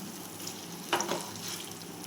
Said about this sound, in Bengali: খুব ভালোভাবে এটা আমি কষিয়ে নিচ্ছি